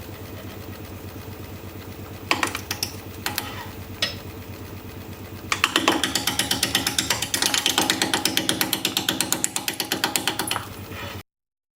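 A wood lathe spins a desert oak bowl blank, a steady mechanical whir with a repeating rhythmic clatter that grows busier and louder partway through as the speed picks up, with a few sharp knocks early on.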